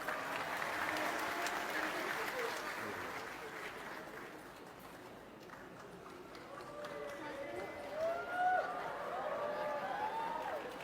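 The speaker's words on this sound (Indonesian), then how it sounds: "Boleh dong kasih tepuk tangan yang meriah buat Zia." A studio audience gives a lively round of applause for a young girl named Zia at a public Q&A event, a sustained clapping wash that dips and swells, with voices chattering and calling out over it toward the end.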